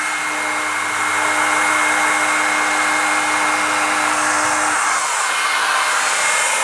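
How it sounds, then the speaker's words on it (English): A hair dryer running as the load on a single-phase electricity meter, a loud, steady whooshing blow with a constant hum that drops in tone near the end. "So just I am going to switch on the hair dryer."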